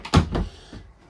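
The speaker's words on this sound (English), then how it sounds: "So that door shuts like that." An interior door inside a Brownhills tag-axle motorhome swings shut with a close, solid thump followed by a second softer knock, then quiet.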